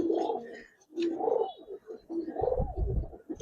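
Young pigeons in an Old Dhaka loft coo loudly and close by, three full rolling coo phrases in quick succession with a short pause between them.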